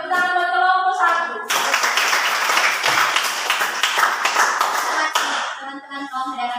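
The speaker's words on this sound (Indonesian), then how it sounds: "Tepuk tangan buat kelompok 1." A group applauding a team of students in a classroom, a dense burst of clapping lasting several seconds between stretches of a voice speaking.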